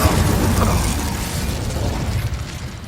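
A fire spell cast in Hogwarts Legacy bursts out as a loud whooshing blast, then settles into a sustained rumbling roar that fades gradually over a few seconds, with no voices present.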